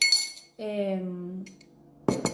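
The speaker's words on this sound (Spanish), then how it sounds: "acá justamente tengo un tenedor, es un tenedor de acero inoxidable" A stainless steel fork taps against a drinking glass, giving a bright ringing clink at the start and another sharp clink near the end, with a brief voice in between.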